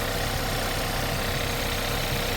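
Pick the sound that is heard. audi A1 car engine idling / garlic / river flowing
audi A1 car engine idling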